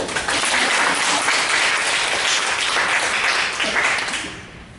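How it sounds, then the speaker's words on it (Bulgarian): An audience at a Plovdiv writers' society literary awards ceremony applauds in sustained, dense clapping that fades near the end. "Аплодисменти."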